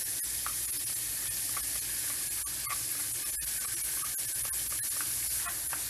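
Garlic sizzling in melted butter in a pan, a steady bright hiss and crackle with small pops, continuous and close throughout.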